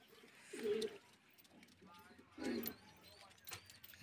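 A male Giribaz pigeon with a pressed throat, a western-line high flyer from Jamshedpur, gives two deep, distinct coos about two seconds apart, close and fairly quiet, with faint mechanical clicks behind.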